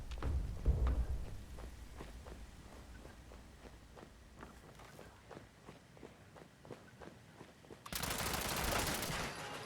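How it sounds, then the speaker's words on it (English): Gunfire in the video game Fallout 76: a steady series of faint, sharp shots popping at a regular rhythm from a distance, followed by a sudden loud burst of broadband noise near the end. "Someone's shooting at me from somewheres."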